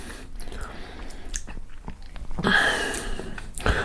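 Close-up chewing of a crunchy sandwich of peanut butter, banana and bacon, with soft wet crunches and bites running steadily through the clip and no talking.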